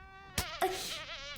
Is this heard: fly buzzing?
yes